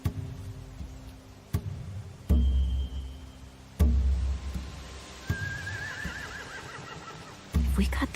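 Horses in The Walking Dead video game whinny and snort near a stable, with a long rising and falling neigh in the middle and heavy thumps recurring throughout.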